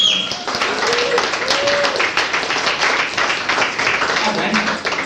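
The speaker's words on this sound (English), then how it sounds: "So give them a round of applause." Audience at a business launch party applauds guests coming on stage, a sustained patter of clapping with some voices and cheers mixed in.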